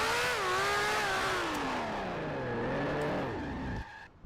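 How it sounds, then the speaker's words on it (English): A 1965 Formula 1 race car in Grand Prix Legends at the Solitude-Ring slides into the dirt and spins, the loud engine wailing and sweeping down in pitch with tire scrub, then cutting off abruptly near the end. "Got into the dirt and spun the car around."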